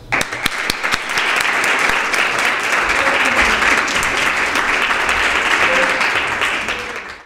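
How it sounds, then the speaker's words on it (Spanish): Applause from an audience at an outdoor Pride celebration in Nerva, Spain. A few sharp claps at first swell quickly into a loud, sustained round that fades at the end. "un aplauso para el amor."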